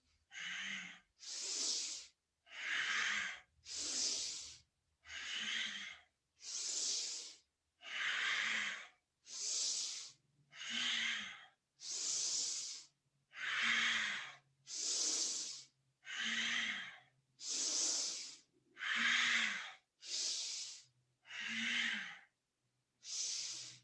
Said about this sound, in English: So pay attention to how you're breathing.